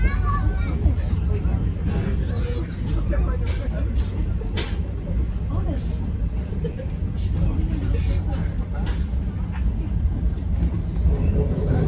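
A passenger train rolls along with a steady low rumble and rattle, heard from on board, occasional clanks and squeaks, while people chatter faintly in the background.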